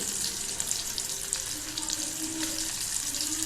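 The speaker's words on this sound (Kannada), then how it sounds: "ಬಿಸಿ ಎಣ್ಣೆಗೆ ಇದನ್ನು ಹಾಕ್ಕೊಳ್ತಾ ಇದ್ದೇನೆ ಗ್ಯಾಸನ್ನು ಸ್ವಲ್ಪ ಮೀಡಿಯಮ್ ಹೈ ಫ್ಲೇಮಲ್ಲಿಟ್ಟು ಇದನ್ನು ಚೆನ್ನಾಗಿ ಫ್ರೈ ಮಾಡ್ಕೊಳ್ತಾ ಇದ್ದೇನೆ" A home-made evening snack fries in hot oil on a gas flame turned to medium-high, giving a steady dense sizzle with small crackles, close and even, with no talking.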